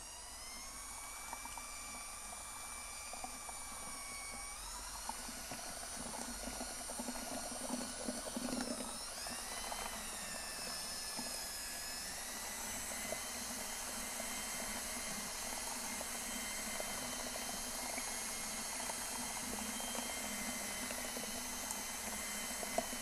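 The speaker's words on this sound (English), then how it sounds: "it's very simply just a matter of mixing it with our drill and paddle" A steady, loud mechanical whir runs continuously, its pitch shifting a few times as a drill churns a mixing paddle through thick epoxy.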